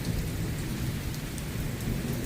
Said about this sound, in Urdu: اس وقت جو ہے نا وہ بارش ہلکی ہلکی شروع ہوئی ہے، اتنی تیز نہیں شروع ہوئی